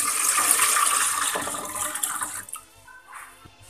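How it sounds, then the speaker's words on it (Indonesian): Coconut milk pours into a cooking pot for eggplant bobor, a close, splashing liquid rush that fades out after about two and a half seconds into small drips and light clatter. "Tuang santan,"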